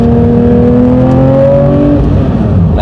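A Porsche 911 (992 generation) sports car engine drones loudly and rises in pitch under acceleration, then eases off as the revs fall, heard from inside the car.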